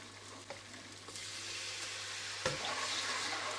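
A butter and flour roux cooking in a pan, giving a steady close sizzle with occasional stirring scrapes, with no talk.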